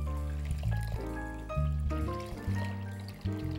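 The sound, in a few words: water poured into a pan for simple syrup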